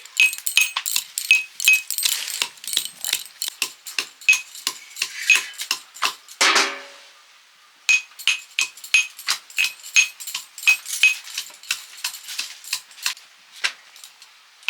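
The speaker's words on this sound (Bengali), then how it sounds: "ঘুগনির জন্য আদা রসুনটা হামান দিস্তাতে থেতো করে নিচ্ছি" Ginger and garlic crushed in a metal mortar and pestle, a steady run of sharp, bright metallic pounding strikes, close and fairly loud, with a brief pause partway through before the rhythmic pounding resumes.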